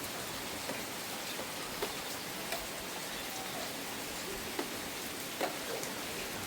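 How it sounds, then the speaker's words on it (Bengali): Steady rain falls in a dense, even wash of noise, with occasional louder drips and drops standing out near the listener. "বৃষ্টিটা"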